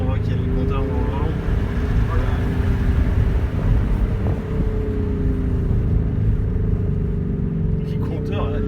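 Tesla car cabin playing a simulated Ferrari engine sound through its speakers while downshifting, a low rumbling drone with rising and falling revs, heard beneath people talking inside the car.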